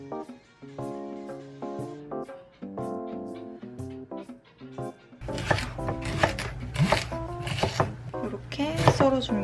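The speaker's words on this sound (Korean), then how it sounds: "이렇게 썰어줍니다" A knife slices food on a board in a series of crisp, irregular taps and cuts, sparse at first and then busier and louder, with music playing underneath.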